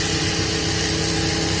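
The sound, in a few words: sewing machine stitching gota patti border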